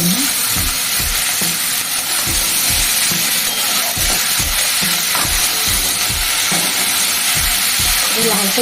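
Food frying on a gas stove until reddish gives a continuous loud sizzle, with regular rhythmic scraping of a stirring spoon against the pan and a voice talking faintly underneath.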